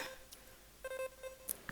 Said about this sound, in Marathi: आईचा फोन आहे.